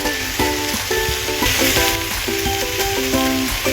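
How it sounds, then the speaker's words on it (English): Vegetarian salted fish and cabbage are stir-fried in a pan, with a constant sizzle and steady stirring under light background music and no talking. "Stir fry for another minute."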